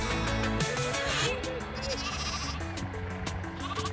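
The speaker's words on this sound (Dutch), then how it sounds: "gingen er een aantal schaapherders de schapen naar een andere weide verplaatsen." Sheep and lambs bleat repeatedly as shepherds move them to another pasture near Lake Mývatn in Iceland. Loud, overlapping and close, with wind and a voice faintly underneath.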